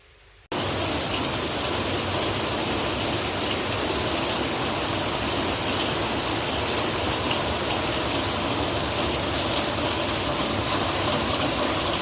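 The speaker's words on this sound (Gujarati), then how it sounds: "એક તો ઝરમર ચાલુ થઈ ગયો" Light drizzle falls as a steady, broad hiss of rain that starts abruptly after a quiet moment and continues evenly, fairly loud and close, with no talking.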